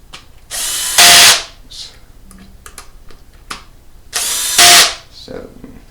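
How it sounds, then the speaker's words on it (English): A power screwdriver whirs in two loud bursts, driving screws into a 1/5 scale FG F1 Competition electric RC car, with small clicks and handling noises in between. "You really need a screwdriver."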